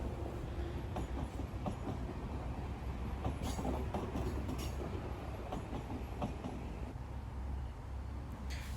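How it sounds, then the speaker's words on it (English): A 16-car high-speed train, two coupled 8-car units bound for Beijing, passes a Shanghai station with a steady low rumble and rushing roar, faint rail clicks and brief squeals throughout, heard from a moderate distance. "this configuration is 2 trains connected together, so it's a 16-car train, 2 8-car units connected."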